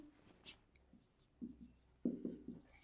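A pen or pencil writes out a math solution by hand, giving faint, scratchy strokes in short bursts with quiet pauses between them and no talking.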